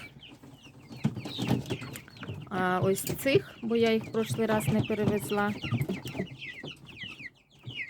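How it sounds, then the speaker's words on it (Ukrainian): Young chickens cluck and chatter nearby in a series of short calls while someone talks over them. "Сьогодні перевожу решту своїх підрощених курчаток"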